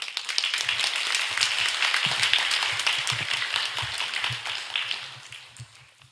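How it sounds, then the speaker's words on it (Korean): A church congregation at a Korean Sunday worship service applauds to welcome the pastor to the pulpit, a dense, steady patter of many hands clapping that gradually thins and fades out. "나오실 때 박수로 환영해 주시기 바랍니다"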